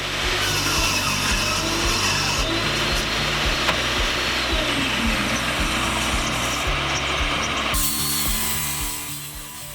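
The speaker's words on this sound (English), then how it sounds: "Now I just run all the pieces through the table saw" A table saw rips through wood panels for a wall-unit cabinet, a loud continuous whine with rhythmic low thumps, the blade note shifting partway and easing off near the end.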